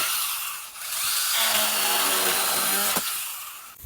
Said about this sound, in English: let's try out the mini chainsaw piece first